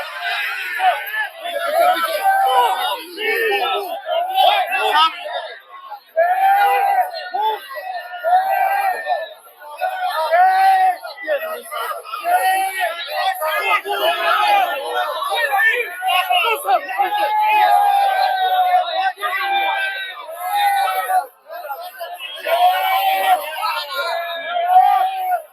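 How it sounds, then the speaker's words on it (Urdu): Crowd of Pakistanis in London shouting and chanting at Nawaz Sharif, a loud, continuous mass of raised voices with whoops and screams, rising and falling in waves. "شیم شیم کے نعرے آپ نے اس آڈیو میں سنے ہوں گے"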